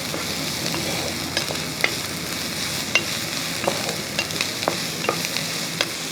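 Sliced drumstick pods and onions frying in a pan as they are stirred, giving a steady close sizzle with scattered light scraping and tapping from the spoon, with no talking.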